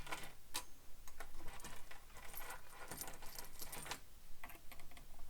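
A presser foot is swapped to a zipper foot on a sewing machine, heard as a series of close, sharp plastic and metal clicks and taps, with a faint low hum underneath.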